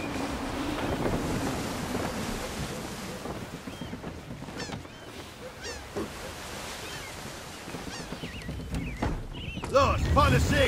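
A sailing ship in the game Assassin's Creed III pushes through wind and waves, with steady rushing wind and water washing continuously and loudly, while voices shout orders over the noise.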